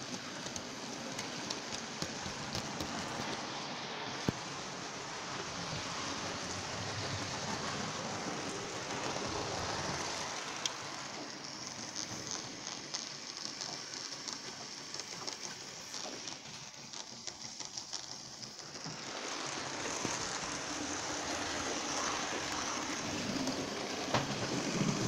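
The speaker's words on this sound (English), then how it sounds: "And to make it more interesting and busier, let me start Thomas Tank Engine." A Hornby Thomas the Tank Engine model train running on its track, heard as a steady faint mechanical whir and rattle that continues unbroken throughout, with no talk.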